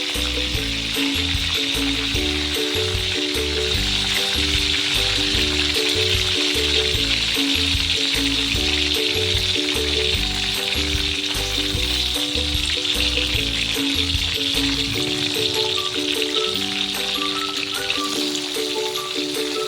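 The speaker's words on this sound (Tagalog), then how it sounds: "dinoble fry ko na siya para mas crispy pa siya" Chicken and tofu fry in hot oil, a loud steady sizzle and crackle that runs on without a break, close up, with no talk over it.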